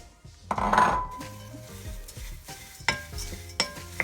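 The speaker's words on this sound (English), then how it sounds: "Yeah, so I'm just adding the dry ingredients." Dry granola ingredients, mixed seeds including golden linseed and sunflower seeds, are stirred and tipped into a bowl, giving soft scraping and rustling with a few light clinks of a utensil against the dish, close and fairly quiet.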